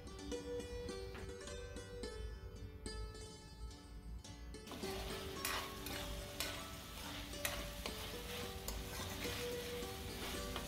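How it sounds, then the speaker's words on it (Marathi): Chopped capsicum sautés in a pan with a continuous sizzle while a utensil stirs it in scraping strokes, close and steady, with no talk. "आता हे दोन्ही एकत्र पुन्हा छान 5 ते 7 मिनिट पुन्हा परतून घ्यायचं"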